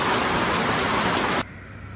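Rain falling steadily on a rural property, a dense close hiss that cuts off abruptly near the end, leaving quieter background noise.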